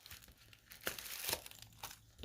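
A package of budget stickers being opened, quiet crinkling of plastic wrap with a couple of sharper tearing bursts, close and brief, with no voices.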